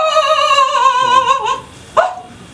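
A man vocally imitates a dog yelping after being hit with a stone, making a drawn-out, high, wavering whine that falls away, then a short, sharp yelp, loud and close with no other sound.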